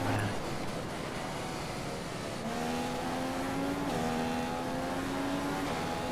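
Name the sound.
F1 race car engine in F1 2015 video game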